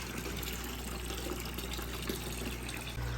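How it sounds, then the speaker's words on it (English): Water pours into a home aquarium during a large water change, a continuous close rushing and splashing that stays even throughout. "you can see the water is coming down"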